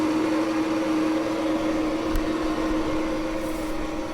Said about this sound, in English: That sound is the tone generator spinning, and it should make that kind of noise.